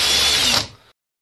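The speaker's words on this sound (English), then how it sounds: "I'm just going to chuck one end of this in the cordless drill" A cordless drill spins at high speed for a little under a second, steady and loud, then winds down and stops, in a fiddle-making workshop.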